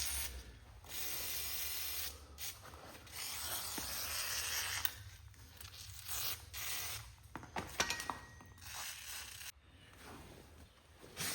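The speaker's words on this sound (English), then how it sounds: "We're going to shoot some WD-40 on that." WD-40 spray can hissing onto the clutch of a Cub Cadet mower in short bursts, close to the microphone, with small clicks and handling noises between sprays and no talking.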